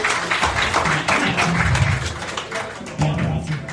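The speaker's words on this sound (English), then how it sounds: "Can we get one more round of applause for them?" An audience at a panel discussion on state fertility policy claps for the panelists, fairly loud and near, with a few louder individual claps standing out before the clapping thins.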